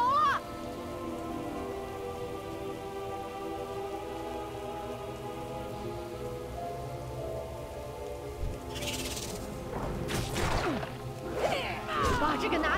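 Heavy stormy rain at night in the World of Warcraft video game, a steady dense downpour with a continuous hiss, joined near the end by sharp whacks and clashing game effects.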